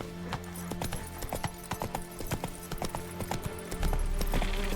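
Roach, a horse in the video game Witcher 3, gallops with rapid, steady hoofbeats sounding close, backed by game ambience and music, with a brief snort or whinny near the end.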